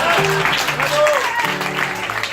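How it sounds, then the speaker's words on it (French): Audience applause at a poetry slam night, a burst of clapping mixed with cheering voices and a sustained tone running underneath. "Vas-y, applaudis."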